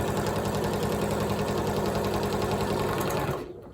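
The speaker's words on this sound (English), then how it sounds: "Now I'm going to sew up the sides." A sewing machine runs steadily with poly blend thread, stitching up the sides of a see-through zipper pouch in a fast, even mechanical whir that continues loudly before stopping abruptly near the end.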